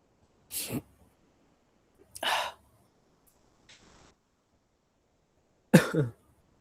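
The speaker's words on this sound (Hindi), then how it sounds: "भैया खांसी है आपको?" Three sharp, separate coughs spaced a second or two apart, plus a faint breathy sound, with quiet between them.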